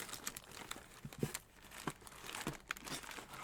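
Paper snugs crumpled together by hand, an irregular run of crinkling and crunching bursts with short pauses between them, fairly close and moderately loud, with no voices.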